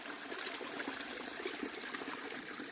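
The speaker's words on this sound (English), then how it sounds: "It's filtering through here, and that is clean drinking water." A gravity water filter on the Appalachian Trail trickles drinking water in a faint, steady dribble with soft splashing throughout and no voices.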